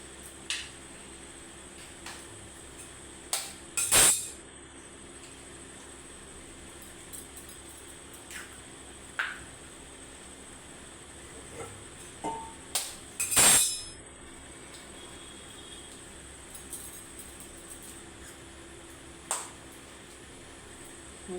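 Eggs cracked one after another for an egg paratha, sharp isolated knocks of shell against a hard edge spread through a quiet kitchen, with two louder cracks standing out.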